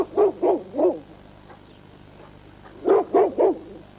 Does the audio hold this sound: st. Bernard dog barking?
yes